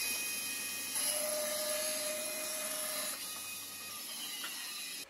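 A wooden piece is cut on a jig against a guide, giving a steady, close, continuous rasping grind that runs evenly for about five seconds, with a slight change in tone partway through and a quick stop at the end.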